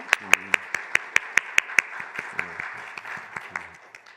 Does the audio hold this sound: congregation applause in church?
yes